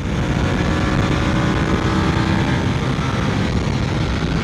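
A QJ motorcycle with Marzocchi forks is ridden on the road, its engine droning steadily under heavy wind rush throughout, loud and close with no pauses.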